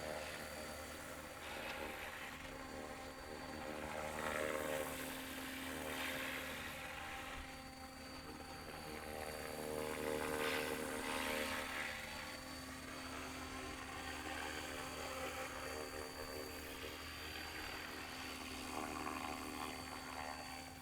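An SAB Goblin Buddy 380 RC helicopter on its maiden flight gives off a steady, fairly close whine and buzz from its rotor and motor. The sound holds for about twenty seconds, swelling and easing slightly, with no talk.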